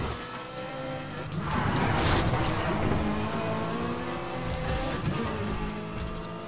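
Racing car engine drifting in the video game Need for Speed The Run, a loud sustained whining roar that swells with revving and a tire-squeal sweep in the middle, continuous throughout.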